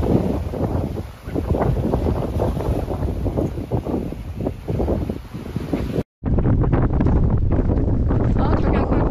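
Strong wind buffeting a sailboat moored off Lizard Island on the Great Barrier Reef at early morning, heavy gusty rumble pounding the microphone almost without pause, with a brief cut partway through.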